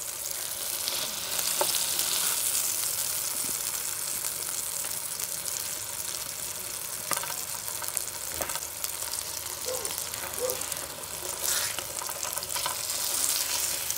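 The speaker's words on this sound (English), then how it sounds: "That's sounding a bit sizzly now." Burgers fry on a pan in a Carthago motorhome, giving off a steady, close, dense sizzle that holds throughout with a few faint clicks and no talk.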